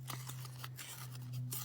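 A paper photo is torn by hand for a scrapbook snippet roll, a short sequence of soft ripping bursts over a steady low electrical hum.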